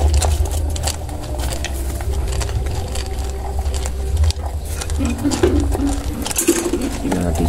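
Pigeons and doves feeding on corn at night in an outdoor colony, with soft intermittent coos over a steady low background rumble and occasional patter, continuous and fairly close.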